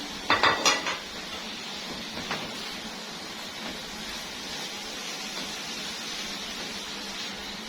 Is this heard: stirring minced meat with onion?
yes